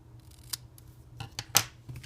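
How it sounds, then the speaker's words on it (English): Scissors snip through cardstock in a few quiet, sharp cuts spaced unevenly, the last one crisper and louder, with faint handling rustle between. "go ahead and snip that part off"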